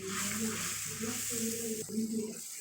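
Turmeric and salt spice mix fries in a pan with a steady, soft sizzling hiss, joined by a low, wavering hum that starts and stops a few times.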